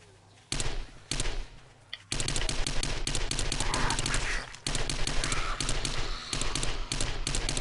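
Gunfire from 7 Days to Die, with rapid bursts of close, loud shots in fast repeating rhythm broken by short pauses, no talking.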